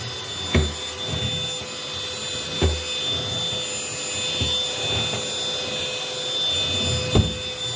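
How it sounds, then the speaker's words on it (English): A MOOSOO vacuum cleaner runs continuously with a steady whining drone, punctuated by a few dull knocks as it bumps along while vacuuming backwards. "Most awkward way to vacuum,"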